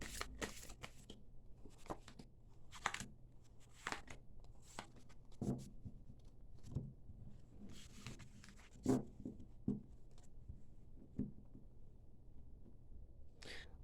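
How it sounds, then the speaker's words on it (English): Tarot cards are shuffled by hand in a quiet setting, with scattered soft riffles, slaps and rustling taps coming in irregular bursts across the stretch, close to the microphone. "I'm going to begin by shuffling"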